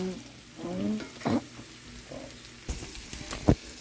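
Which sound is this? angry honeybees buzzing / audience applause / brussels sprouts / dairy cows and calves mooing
brussels sprouts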